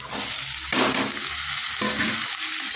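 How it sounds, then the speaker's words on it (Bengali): Bitter gourd, potato and onion frying in oil, a loud steady close sizzle with a few distinct bursts of stirring as a spatula tosses the vegetables through the pan. "ভালো করে নাড়াচাড়া দিয়ে মিশিয়ে নেব একটু হালকা ভেজে নেব"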